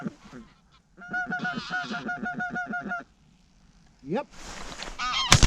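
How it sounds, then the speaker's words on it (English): Geese honk during an inland goose hunt: a near run of repeated honks, a pause, then another sharp burst of calls, with one brief spoken word in between. "That's providing the geese come in, of course."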